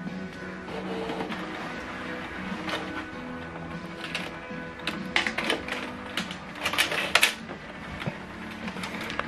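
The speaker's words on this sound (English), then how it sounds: "So you need to make sure you perform this alignment in your printer so that it will function properly." A Canon PIXMA TS8350 all-in-one printer runs its cartridge alignment, giving steady mechanical whirring with clustered clicking and rattling bursts that grow busier toward the end, close and fairly loud with no talk.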